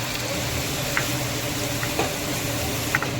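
Onion, coconut and garlic-ginger-cumin paste frying in oil in a pan, a steady loud sizzle with a few faint stirring clicks, no talk.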